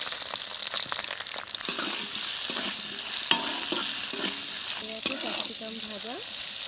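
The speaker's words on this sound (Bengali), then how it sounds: "ক্যাপসিকাম ভাজা হালকা করে একটু তেলের মধ্যে নেড়ে নিলাম যাতে কাঁচা গন্ধটা কেটে যায়" Capsicum stir-fries in a little oil with a strong, steady sizzle, while a spatula scrapes and knocks against the pan in irregular strokes throughout.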